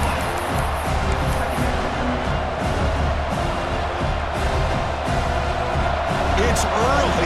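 Stadium crowd roar in the EA Sports College Football 26 video game, a dense, loud and steady wall of cheering that runs the whole time, with scattered sharper bursts and a commentator's voice over it.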